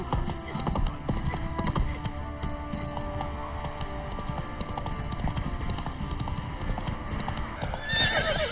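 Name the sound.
horse hooves clip-clopping, from video game The Witcher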